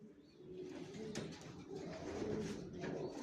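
Racing pigeons of a top-quality long-bred line coo softly in a loft, with several low, repeated throaty coos overlapping across the span against quiet background rustle.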